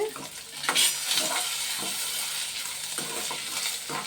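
Food fries and sizzles in a pan, a steady close hiss with occasional stirring scrapes and pops throughout, with no talking.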